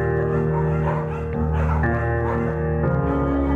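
Small dog's yips and whimpers in the video game Firewatch, a scruffy beagle, heard over a steady tonal music bed with no talking.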